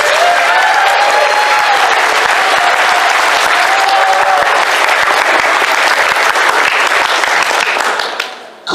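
A large audience at a fan convention claps loudly and steadily for nearly nine seconds, a dense continuous wash of applause that fades out at the very end.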